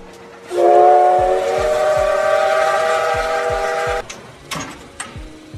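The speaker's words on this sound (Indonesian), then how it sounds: "Yoshi melihat kereta melaju" A train sounds a long, loud whistle as it rolls past, the steady rhythmic clacking of wheels on rail joints continuing underneath and then fading as the tone stops.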